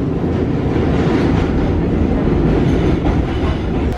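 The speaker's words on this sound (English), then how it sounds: "This is apparently our train." A New York subway train roars loudly and steadily at close range, with a continuous rumble of wheels on the rails and faint clatter throughout.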